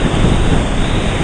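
Pacific Ocean surf at a Hawaii beach roars loud and close in a dense, continuous wash, buffeted by wind against the microphone.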